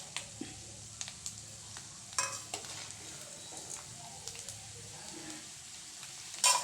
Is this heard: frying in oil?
yes